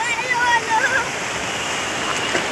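Water rushes at Gadeshwar dam in a steady, fairly loud roar of flowing water, with voices partly over it.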